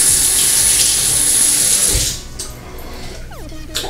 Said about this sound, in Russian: Сейчас возьму прохладную такую водичку, чуть-чуть тепленькую.